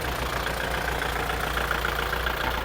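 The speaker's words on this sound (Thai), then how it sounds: "เสียงเครื่องปกติ" A Kubota L5018SP tractor engine, a 2021 model, idles steadily at close range. The low, even rumble runs without pause and no voices are heard.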